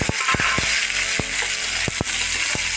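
Large chopped tomato pieces go into a hot pan with a steady, loud sizzle, broken by a few sharp clicks and clatters as the pieces land and shift.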